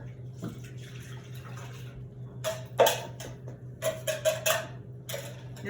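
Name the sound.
pouring water into a Le Creuset pot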